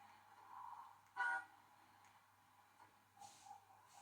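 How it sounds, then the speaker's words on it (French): A short synthetic video game vehicle horn toot sounds once, brief and clear against a quiet, faintly humming background, with a softer tone later. "Ah d'accord, on peut klaxonner."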